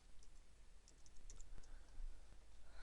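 Typing on a computer keyboard while entering text into Photoshop: a faint, quick run of light key clicks over background hiss, with no voice.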